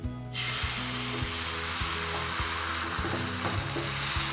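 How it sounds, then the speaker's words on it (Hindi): Neer dosa batter goes onto a hot pan with a sudden hiss that settles into a steady loud sizzle, alongside a repeating mechanical buzzing pulse in the background. "पैन हमारा गरम हो चुका है अब हम इस बैटर को पैन में डालेंगे"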